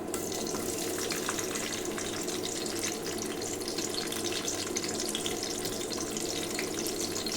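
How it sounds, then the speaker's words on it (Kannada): Onions frying in hot oil while cooking avarekalu, a steady dense sizzle that holds evenly and loud throughout with no talk. "ಈರುಳ್ಳಿ ಫ್ರೈ ಮಾಡ್ಕೊಳ್ಳೋಣ. ಬ್ರೌನಿಶ್ ಕಲರ್ ಬರೋ ತನಕ ಫ್ರೈ ಮಾಡ್ಕೊಳ್ಳೋಣ."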